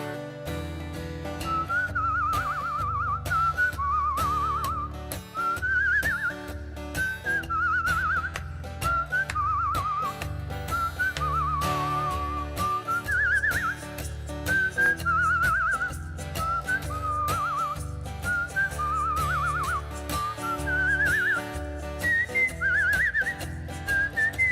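A person whistles a wandering, ornamented tune over a steady musical backing, the whistle clear and prominent throughout a long stretch with only brief pauses.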